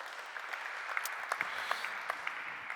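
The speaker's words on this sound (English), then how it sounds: "let's a little bit applause for these two guys doing a hell of a job" A small group claps for two tennis players at a coaching session, a faint, sparse patter of hands with a few sharper individual claps standing out.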